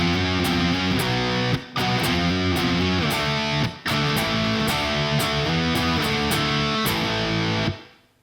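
Loud distorted electric guitar chugs through the power-chord chorus riff of a rock song, steady and driving, with two brief dropouts before it rings out at the end.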